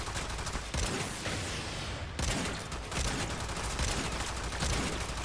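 Euphona Prime shotgun blasts in Warframe, heavy booming shots repeating in a rapid string of dense bursts, loud and close with no talking.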